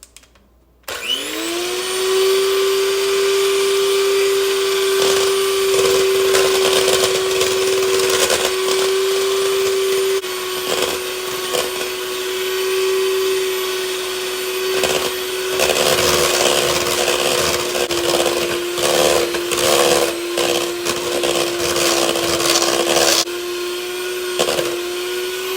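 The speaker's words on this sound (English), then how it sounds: "we're gonna beat this until stiff peaks form" An electric mixer whirs steadily and loudly, whipping cold heavy whipping cream with powdered sugar toward stiff peaks, its motor pitch holding nearly constant for about twenty-five seconds with scraping and rattling over it, and no talking.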